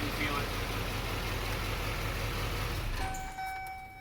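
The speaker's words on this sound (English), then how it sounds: "The motor just sounds super great." The diesel engine of a 2006 GMC Topkick 4500 ambulance with a Braun Chief XL body runs at a steady, deep idle close by, a low continuous rumble that fades near the end as a voice talks over it.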